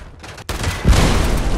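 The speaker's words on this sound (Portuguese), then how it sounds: "Quem atirou nessa porra?" Gunfire in the video game Fallout 76, with a rapid burst of close, loud shots that swells into dense, continuous firing.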